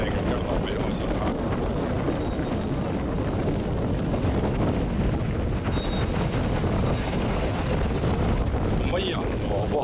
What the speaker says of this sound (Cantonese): 不過好可能會太大風